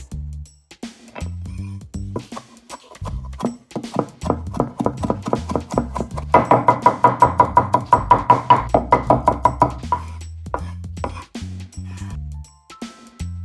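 Rapid knife chops through pickled wild chilies on a cutting board, steady rhythmic knocking that speeds into a dense burst midway, then slows to scattered taps.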